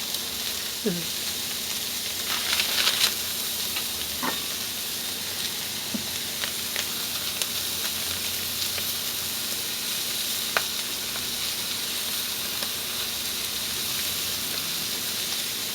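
Burger patties and toasting buns sizzle steadily on a hot griddle for a copycat Big Mac, a continuous close hiss with a few faint scrapes and light clatter, brief talk in the background.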